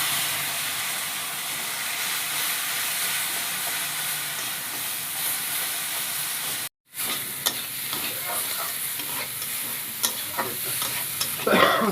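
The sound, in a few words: fish curry sizzling as water and turmeric are added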